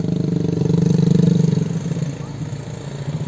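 Motorcycles ride up a narrow village footpath, their mid-pitched engines revving loudly and close by, then fading slightly as they climb away.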